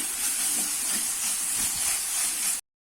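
Tomatoes and freshly ground spice powder sautéing in a pan for garlic rasam, a steady close hissing sizzle that cuts off abruptly near the end.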